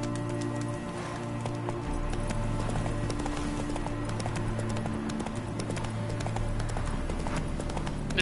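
A horse gallops in the video game The Witcher 3, its hooves beating a steady, rapid clip-clop rhythm throughout alongside a low ambient bed, with no talking.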